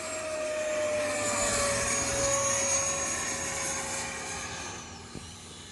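An E-Flite F-18 Hornet RC jet with an 80mm electric ducted fan, 980mm size, flying aerobatic loops; a steady high whine of the fan shifts pitch as it passes overhead, loud and continuous with no talk.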